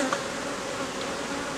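Honey bees buzzing on a hive frame in a queenless colony, a dense, steady close-up drone of many wings with no voices.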